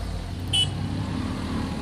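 A car engine pulls under load on a snowy road in Kartepe, a steady low rumble running throughout with a brief high tone near the middle, no talk.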